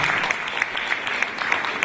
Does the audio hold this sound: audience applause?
yes